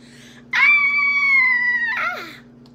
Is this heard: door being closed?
no